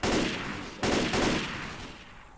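Gunfire in the Left 4 Dead 2 zombie shooter, loud dense bursts that fill the clip, a second volley breaking in partway, then a decaying rumble.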